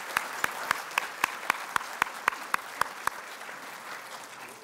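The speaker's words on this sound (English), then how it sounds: "Let's give them a round of applause." An audience at a retirement and service pin ceremony applauds the retirees, with steady crowd clapping and a run of sharp, rhythmic close claps standing out above it before it fades.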